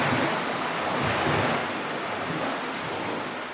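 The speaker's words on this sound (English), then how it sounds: "That sound is the wake from that fishing boat breaking on the beach." Waves from a fishing boat's wake breaking on a beach, a steady rolling wash of surf with wind rumble, swelling slightly then easing, with no voices.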